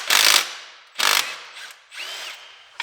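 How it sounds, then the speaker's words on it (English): Spark plugs being loosened and pulled from a Mazda Miata engine with the valve cover installed, giving two loud, close ratcheting tool bursts followed by softer metallic turning and clicks, with no talking. "we'll go ahead and yank out these spark plugs, which are probably maybe original."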